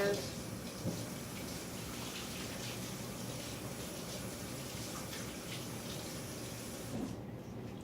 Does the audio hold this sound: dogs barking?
no